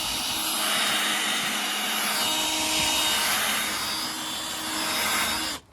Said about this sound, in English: We're going to drill that down, get that back edge off until this here comes loose